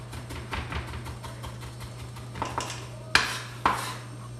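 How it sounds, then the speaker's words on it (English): A kitchen knife is dragged back and forth across food on a cutting board, making a run of quick, light scraping strokes, then two sharper clacks of blade against the board close up. "we'll just run our knife over the top back and forth a few times"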